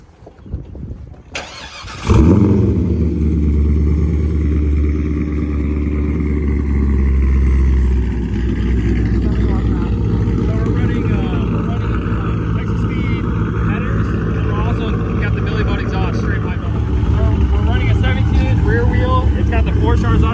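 A supercharged C5 Corvette making over 900 horsepower fires up after a moment of quiet, then settles into a loud, lumpy idle with a deep rumbling pulse that continues steadily to the end, with a voice occasionally over it.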